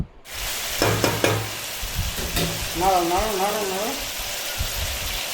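Chicken pieces fry in a pan for Bengali-style chicken kosha, a close crackling sizzle with a few knocks of stirring near the start and a brief wavering tonal whine partway through.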